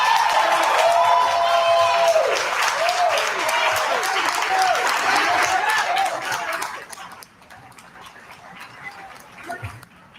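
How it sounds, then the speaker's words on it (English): A crowd of people clapping and celebrating, loud dense applause with cheers and voices for about seven seconds, then fading to quieter scattered sounds. "It was all mostly black people there that was clapping and celebrating that"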